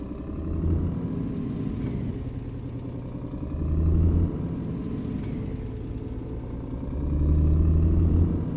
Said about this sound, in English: Truck starting off a bit slow there.